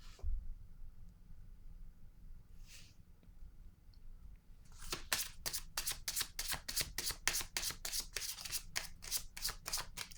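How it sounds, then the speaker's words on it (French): Playing cards are riffled and shuffled in a quick, fast-paced run of crisp flutters that starts partway through after a quiet stretch, close and fairly soft. "Je vais piger une autre carte."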